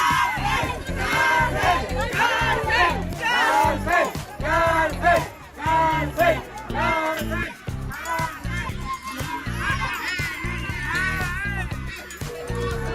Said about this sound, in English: when she finally got down, was booed by an entire crowd